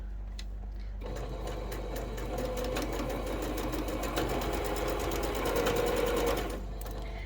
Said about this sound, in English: we just put our pieces together, and we're going to do a 1/4 inch seam allowance